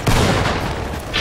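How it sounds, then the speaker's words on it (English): A hand mortar fires in an online multiplayer war shooter game. One loud, booming blast fills the short moment, followed by a rumbling tail and a brief higher burst near the end. "Fucking hand mortar."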